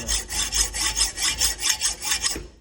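Cap screw being cut off by hand with a hacksaw in a workshop, about ten even rasping back-and-forth strokes in a steady rhythm, close and loud, no voices.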